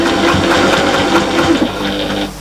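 A sewing machine stitches a quarter-inch seam on a fabric storage caddy, a loud, close, rapid mechanical whirr with steady needle chatter throughout.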